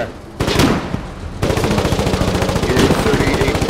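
Loud, rapid automatic gunfire in the online war video game War 107, a sustained rattling burst of machine-gun shots after a brief lull, close and dominant.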